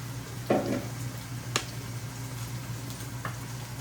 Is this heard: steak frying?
yes